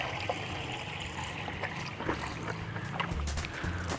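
Water poured into a container for making hibiscus shampoo, heard as a continuous trickling and splashing with faint handling knocks and a low background hum.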